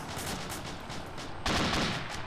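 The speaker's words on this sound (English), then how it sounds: "Oh, we're still taking fire." Gunfire in a military shooter game, a rapid crackle of shots that runs continuously and swells into a louder, denser burst halfway through.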